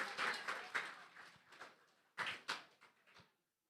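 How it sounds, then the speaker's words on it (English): Audience at a 4-H Club schools' public speaking competition clapping for a student, a short, faint, uneven patter of hands that swells twice and stops after a few seconds. "Let's give him a round of applause, please."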